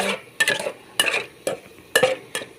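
Thai chili paste stirred and dry-roasted in a pan alongside fried mackerel, heard as close, sharp scraping and clinking strokes of a utensil against the pan in an irregular rhythm, with quiet sizzle between strokes and no talk.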